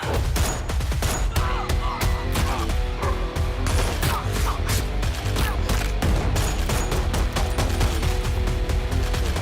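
Rapid bursts of gunfire and booming impacts pound over loud dramatic music in a movie trailer, dense and relentless throughout.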